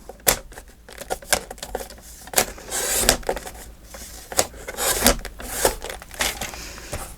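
Scissors snip through craft paper still damp with wet glue while a triple hidden pocket is being made. Crisp, close clicks and snips come in quick, uneven bursts, with rustling and a faint tearing texture between them.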